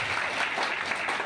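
Audience clapping steadily for Pareshbhai at a felicitation ceremony of a savings cooperative society, a dense, even burst of applause with no talk over it.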